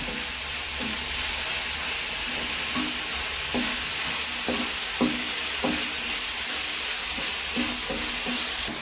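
A spice mixture with garam masala powder frying in a pan while being stirred, a continuous sizzle punctuated by regular scraping strokes of the spoon, close and fairly loud.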